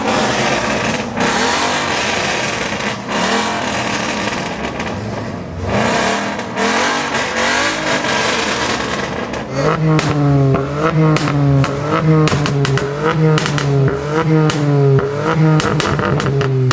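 A Corvette V8 engine in a BMW revs hard through a custom exhaust with a raspy, aggressive note, rising and falling in repeated bursts, close by and sustained throughout.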